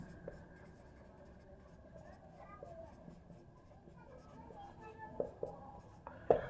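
Pen writing a sentence on paper, a soft scratchy scribble heard under someone speaking Bengali, with a few louder taps near the end.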